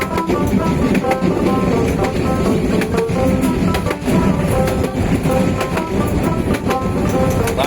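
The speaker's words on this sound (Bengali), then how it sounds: "লাইনের কি অবস্থা, কি বাম্পিং করে" The Bijoy Express passenger train near Mymensingh rattles and bumps along a rough rail line, with a close, loud, continuous rumble broken by rhythmic clacks over the track joints and no talking.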